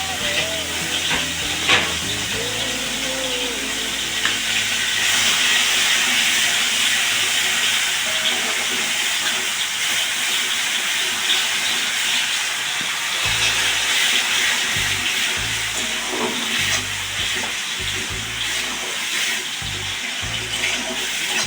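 Onion paste fries in hot oil with bay leaf, cardamom, cloves and cinnamon, giving a steady, loud, broad sizzling hiss that runs throughout, with a few soft low knocks from the pan.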